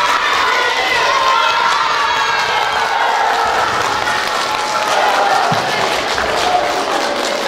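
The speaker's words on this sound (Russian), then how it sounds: "Скажите им спасибо громкими аплодисментами." An outdoor festival crowd in Podolsk claps and cheers for the organisers in a steady, dense wash of applause, with scattered shouts, some of them children's, mixed in.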